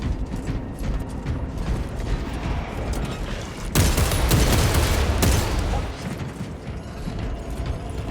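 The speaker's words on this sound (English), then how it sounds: "Changing magazine." A magazine-change reload in Warhammer 40k Space Marine 2: metallic clicks and ratcheting mechanism sounds, followed by a loud, dense burst of gunfire and noise in the middle, over ongoing combat ambience.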